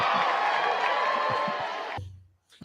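A canned sound-effect button plays applause with crowd cheers and whoops, a dense burst that holds steady for about two seconds and then cuts off, with a brief voice afterward.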